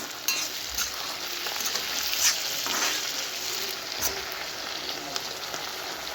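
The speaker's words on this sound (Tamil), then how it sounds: "இப்போ கீரை நல்லா எண்ணெயில் வதங்கிருச்சு" Spinach sautés in hot oil in a pan, giving a steady close sizzle and crackle with occasional stirring scrapes and no voices.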